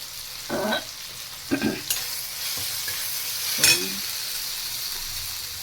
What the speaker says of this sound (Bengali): এরপরে পেঁয়াজ আর টমেটো কিছু একসাথে দিয়ে দেওয়া হলো